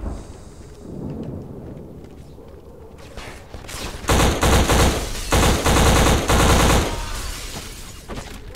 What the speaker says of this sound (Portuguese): o bom da AK-47 é o hipfire dela